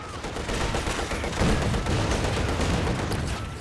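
Artillery barrage in the strategy game Company of Heroes 2, a dense continuous rumble of overlapping explosions and gunfire that stays loud and steady throughout with no pauses.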